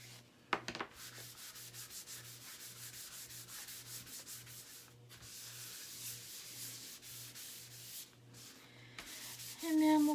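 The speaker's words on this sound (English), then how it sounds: "Rub it on and buff it off." Surface wax being rubbed on and buffed off a chalk-painted piece with a cloth, a steady soft scrubbing friction in repeated rhythmic strokes, close and moderate in level, with a sharp knock near the start and a louder rustle at the end.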